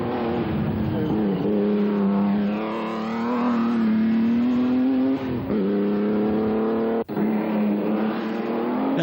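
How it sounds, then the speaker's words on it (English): An ERA R8C racing car with independent front suspension, driven on the Shelsley hill climb, revs hard in a steady loud engine drone whose pitch rises, dips briefly near the end and climbs again. "Lord Howe's R8C with the independent front suspension with Bruce Spollen at the wheel."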